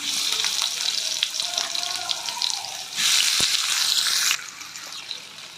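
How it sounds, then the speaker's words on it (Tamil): Chopped onion frying in hot oil in a heated pan gives a steady, close hiss that swells louder for about a second before settling back down. "தேவையான அளவு எண்ணெய் சேர்த்துப்போம் கட் பண்ணி வச்சுருக்க வெங்காயத்தை சேர்த்துக்கலாம்"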